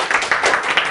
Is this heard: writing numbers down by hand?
no